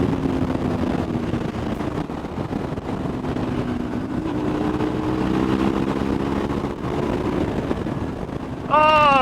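BMW 1150 GS motorcycle with a new engine riding along, a steady engine drone with rising and falling pitch mixed with wind rush, ending in a brief higher whine.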